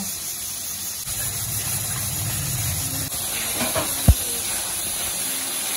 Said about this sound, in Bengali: এটা ভালো করে আরো ফ্রাই করব